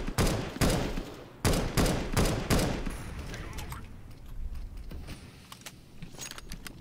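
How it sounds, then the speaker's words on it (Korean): Rapid gunshots ring out in a competitive CS:GO match: a cluster of sharp, loud shots in the first few seconds, then quieter scattered fire and movement. "번갈아 쏘고 계세요."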